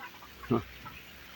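A single short, close cluck comes from a two-month-old crossbreed Basilan chicken. It sits against a quiet rural background.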